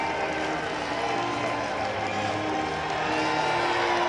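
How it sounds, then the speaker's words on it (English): Ballpark crowd applauding and cheering for Bruce Bochy at a Giants–Red Sox baseball game, a dense, continuous wash of clapping and crowd roar, broad and steady. "Applause from the Red Sox as well for Bruce Bochy."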